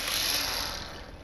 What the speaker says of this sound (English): I winch you to me, I winch me to you.